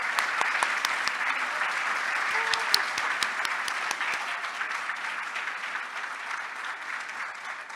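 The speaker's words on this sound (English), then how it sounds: "Can we just give a round of applause?" An audience at a peace builder awards event gives a steady round of applause, a close, even patter of many hands that fades slightly toward the end.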